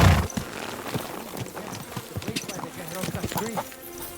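Hooves clip-clop from a horse in the video game Kingdom Come: Deliverance 2, a steady rhythmic trot under a man's speech, with an occasional soft snort.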